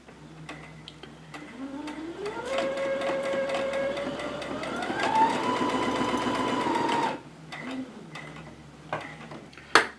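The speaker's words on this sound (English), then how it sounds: "I'm just gonna turn this and edge stitch along here." Sewing machine edge stitching fabric for a cat bed, its motor whirring up from slow to a steady fast run for several seconds before stopping, with light handling clicks before and after.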